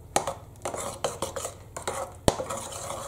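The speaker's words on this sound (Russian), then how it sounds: "И еще раз перемешиваем." A spoon stirs carrot and parsnip soup in a pot, making a close series of metallic clinks and scrapes against the side in an uneven rhythm, with one sharp knock.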